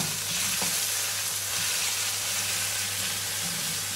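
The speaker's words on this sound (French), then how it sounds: "je vais faire colorer, caraméliser un peu ma garniture" Onions, carrots and shallots caramelizing in a pan, a dense, steady hiss of frying close by with light stirring movements, plus a faint low hum and no talking.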